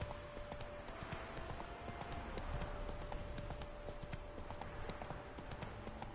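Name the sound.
horse Roach galloping in video game The Witcher 3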